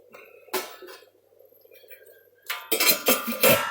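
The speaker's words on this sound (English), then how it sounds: "put the lid on and go really low" A metal lid clinks onto a cooking pot while carrot chutney is being made, a short bright clatter of pot and lid followed by more clinking, with a voice speaking briefly.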